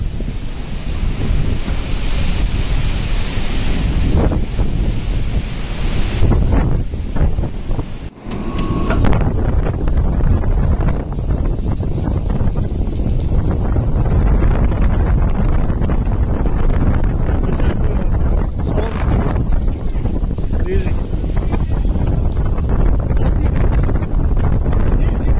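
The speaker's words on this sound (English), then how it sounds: "that rain is falling from the ship like waterfall" A heavy, constant roar of rain pouring off a cruise ship like a waterfall, with wind, loud and close, like a downpour cascading nearby, with faint voices underneath.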